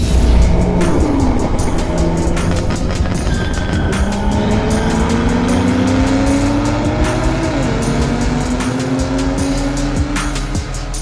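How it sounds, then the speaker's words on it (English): A BMW F8x M2/M3/M4 is dry-steered at low speed, its front wheel giving a rapid series of sharp clicks over a close, continuous scrubbing squeal from the tires. "Now the sound is normally heard when doing slow maneuvers or parking or dry steering like this."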